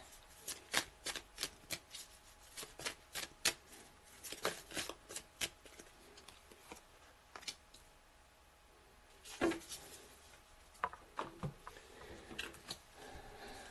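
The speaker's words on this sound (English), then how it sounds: "I'll do a couple more shuffles and then I'll choose." Tarot cards riffle and slap in quick crisp bursts, a run of shuffles close and quiet, pausing briefly before a few more flicks, with no talking.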